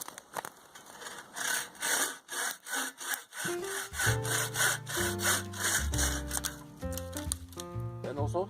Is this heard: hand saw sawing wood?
yes